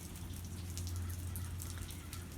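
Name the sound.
rain falling in the backyard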